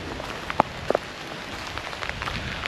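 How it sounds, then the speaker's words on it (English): Rain falling on a mountain walking path in the Vosges near La Bresse, a steady soft patter with a few sharper close drops striking nearby, no voices. "Now it's just started raining again"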